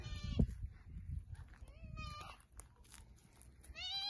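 A small sheep bleats in a few wavering, rising calls, with a louder bleat at the end, amid a soft background and some voice-like murmuring.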